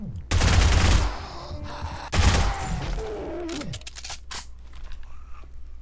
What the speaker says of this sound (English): the SMG doesn't do a lot of initial damage, but the rate of fire on this thing certainly makes up for it